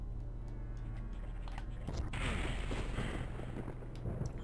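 Explosion in the video game Doom 64, a loud booming blast that erupts about two seconds in over steady game noise, followed by a rumbling, crackling tail.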